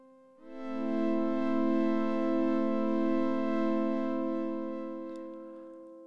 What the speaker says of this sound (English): The next thing that I want to show you is a pad sound.